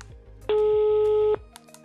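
A single steady telephone ring tone sounds over the line for just under a second, clear and alone against near silence, then cuts off abruptly as the call is hung up.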